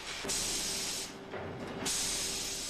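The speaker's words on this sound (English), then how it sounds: "Next comes a spray-on expanding foam, lightweight with a bark-like texture." Spray-on expanding foam hisses out over a taped tree armature for a half-scale model tree, building a lightweight bark-like texture: two sustained, fairly loud bursts of hissing separated by a brief pause.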